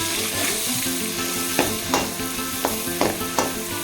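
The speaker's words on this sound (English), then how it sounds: "Let's stir fry it for about 2 to 3 minutes till all the aroma is well released in the butter." Crushed garlic cloves stir-fried in butter, giving a loud, steady close sizzle with a few scraping stirs of a utensil against the pan.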